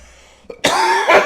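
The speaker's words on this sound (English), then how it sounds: "I do a cough." A single harsh cough bursts out after a brief throat sound, loud and close, with a second rougher hack trailing at the end.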